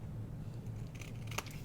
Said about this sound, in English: Then we're just gonna trim these little edges here.